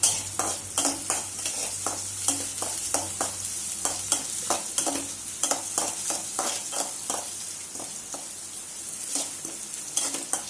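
Ingredients with curry leaves being sautéed in a pan: a steady sizzle under a string of regular scraping stir strokes, close and fairly loud, with no voices.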